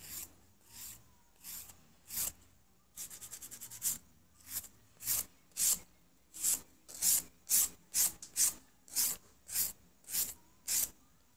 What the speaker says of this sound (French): Quelques coups de lime. Mon carré est fait.